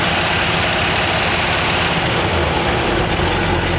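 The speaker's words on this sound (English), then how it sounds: "I have to rev it up a little bit, clear it out." A 1978 Ford LTD wagon engine with an exhaust leak runs loud and close, holding a steady, rough, continuous roar for a few seconds with no voices over it.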